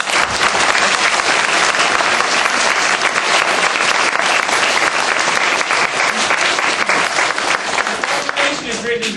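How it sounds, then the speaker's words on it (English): Loud, sustained applause from a school audience at a national flag and proclamation presentation, dense clapping filling the room without a break for about nine seconds. "Can we get a round of applause?"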